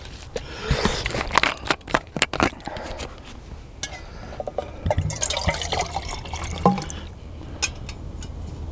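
Water poured into a container after a top attachment is fitted, giving a run of splashing and trickling with scattered drips and clinks, fairly close and moderately loud, with no talk.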